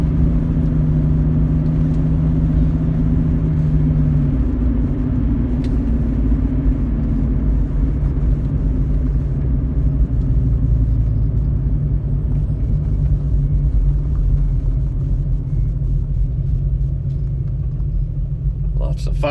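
A Jeep Cherokee XJ's engine gives a steady low rumble while driving, with road noise throughout and someone talking over it.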